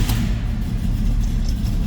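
A 1969 Chevrolet Camaro Z28 with an 8,000 RPM tachometer starts up, its engine settling into a steady, loud low rumble heard up close with no talking.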